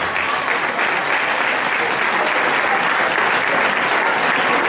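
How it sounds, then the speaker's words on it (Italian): Loud, sustained audience applause at a youth football tournament award ceremony, dense steady clapping from a crowd without a break. "Facciamo un applauso."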